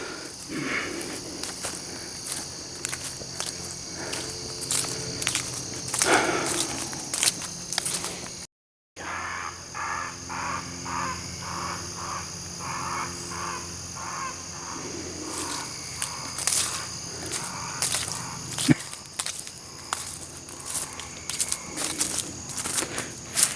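Crows caw repeatedly from nearby trees along a hiking trail near a towpath, their harsh calls layered over a steady outdoor hiss and insect buzz, with footsteps and faint movement but no speech.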